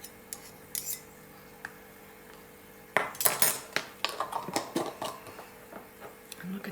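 A metal teaspoon scrapes and clinks against a jar or bowl while mixing a homemade dandruff hair tonic, giving a run of close, sharp taps and scrapes that quicken after a quiet start.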